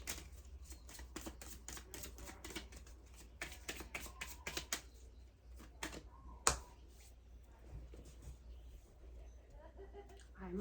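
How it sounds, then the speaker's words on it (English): Oracle cards from an angel therapy deck being shuffled by hand, a run of quick, crisp riffling clicks and taps at close range that thins out after a sharp snap, with faint background hum. "Actually, shuffle a little bit more."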